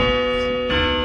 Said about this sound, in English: With Deathwood's bell tower ringing through the halls of my manor